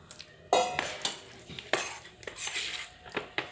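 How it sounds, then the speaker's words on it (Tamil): Spoon scraping and clinking against a dish while curd is poured and stirred into cauliflower curd rice, a run of sharp close metallic taps and scrapes with no one talking. "இப்போது வேணும்னா தயிர் வந்து நீங்கள் இன்னும் இந்த மாதிரி ஊற்றிக்கலாம்"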